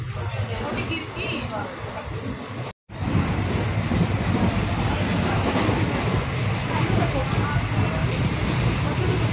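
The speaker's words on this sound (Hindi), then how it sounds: "लक्ष्य ले रहा ट्रेन के नजारे" A train rolls along the rails with a loud, continuous rumble heard from inside a carriage, broken by one brief gap and mixed with wind noise and background chatter.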